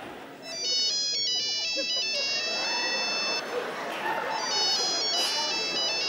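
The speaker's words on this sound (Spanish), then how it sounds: "¿Está sonando un móvil? Sí, es el mío." A mobile phone ringtone rings in a public restroom, a repeating electronic melody in bursts that pauses briefly and resumes, heard over steady room noise and background murmur.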